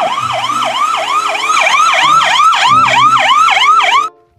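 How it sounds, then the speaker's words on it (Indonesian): A toy ambulance's wailing electronic siren rises and falls in quick, steady cycles, loud and close, then cuts off abruptly near the end. "Lihat, ada mobil ambulan."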